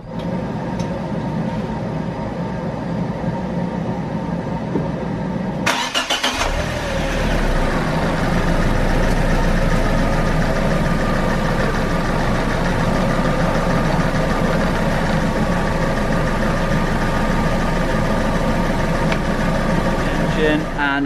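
A car engine cranks and catches after a short pause, then settles into a steady, close idle during a coolant flush job, with a person talking over the running motor.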